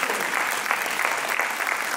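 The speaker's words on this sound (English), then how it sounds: "A big applause for the casualty and emergency team." Audience applause for a hospital's casualty and emergency team at an Independence Day celebration at a medical college, steady clapping from a crowd that holds at an even level throughout.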